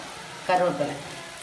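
Onion sizzles and fries in a hot pan, a brief burst of crackling as it is stirred, with a faint voice-like tone mixed in.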